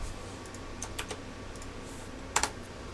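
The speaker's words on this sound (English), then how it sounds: "you hit the A key." Computer keyboard keys are tapped sparsely, a few light clicks spread out followed by a sharper double press near the end, faint and close with no talk over them.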